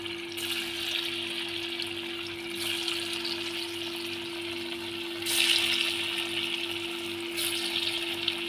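Dhoka lentil cake pieces frying in hot oil, a steady bubbling hiss with a constant low hum underneath and a couple of louder surges as more pieces go in.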